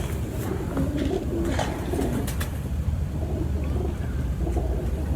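Low, soft cooing of a racing pigeon repeats over a steady background rumble, with a few brief higher calls mixed in.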